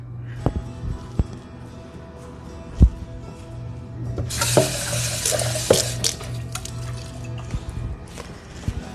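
A kitchen tap runs for about two seconds, a steady rush of water collected to add to a homemade pasta sauce, framed by faint clinks and drips.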